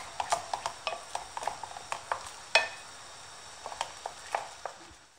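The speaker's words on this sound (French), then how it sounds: "Nous remuons constamment pendant 5 minutes jusqu'à ce que l'œuf soit bien cuit." A shrimp and egg filling is stirred in a frying pan, giving a series of light scraping and tapping strokes over a faint sizzle, close but quiet, with one sharper clack midway.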